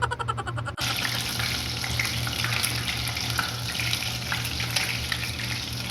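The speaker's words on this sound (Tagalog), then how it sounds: "piprituhin na natin siya ngayon." Ketchup-coated chicken, air-dried for an hour, dropped into hot oil and frying, starting with a sharp hit and then a steady, close, crackling sizzle that keeps going without pause.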